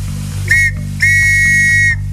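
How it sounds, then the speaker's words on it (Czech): A signal whistle is blown at an outdoor event in Slavonice: two sharp, loud blasts, one short and one long, standing alone over a steady low hum. "Já tady pískám na lesy"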